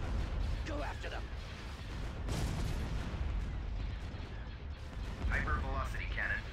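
Hypervelocity cannon fire in the Imperial Civil War space strategy game, heard as dense, rumbling booming blasts with layered mechanical clatter, a sharp burst standing out midway, over continuous battle noise; a voice talks over it.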